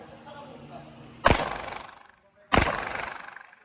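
Two sharp pistol shots from an Armscor 22 TCM/9mm combo fired at a steel plate on an outdoor firing range, spaced about a second apart, each loud and close with a decaying ring after the blast.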